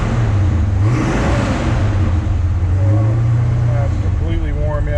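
A 1965 Pontiac GTO convertible with the Tri-Power engine, not yet fully warm, revs steadily at close range, its deep rumble swelling and easing across several seconds while someone talks over it.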